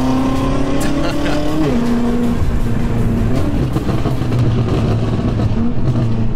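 An 820 hp BMW M5 Competition engine revs hard, pitch climbing then dropping sharply at a gear change before settling into a loud, steady drone.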